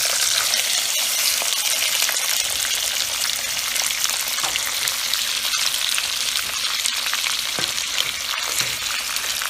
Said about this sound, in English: I'm cooking this in a wok,